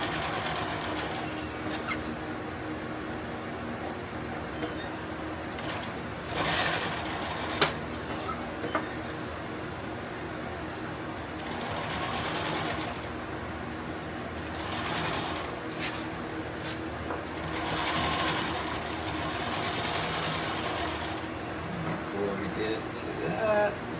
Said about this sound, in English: Drop the needle down on it. Go forward, go backward, go forward again.